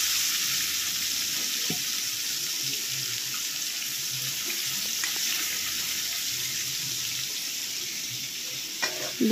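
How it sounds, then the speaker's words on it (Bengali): Tomatoes sautéing in hot spiced oil in a pan, producing a steady, even sizzling hiss that continues unbroken for the whole stretch with a few faint clicks. "দেখো, টমেটোগুলোকে কষানো হয়ে গেল।"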